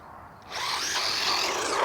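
WLToys RC car on 2S with dry differentials, its electric motor revving up sharply to full throttle, a loud, rough, high whine that holds steady before cutting off abruptly.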